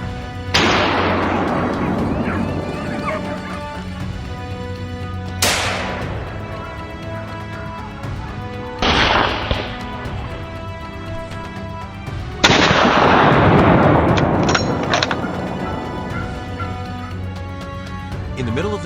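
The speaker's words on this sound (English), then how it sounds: "he aimed for the largest boar and pulled the trigger without hesitation" Rifle shots during a wild boar hunt in woodland: four loud, sharp reports spaced several seconds apart, each trailing into a long rolling echo.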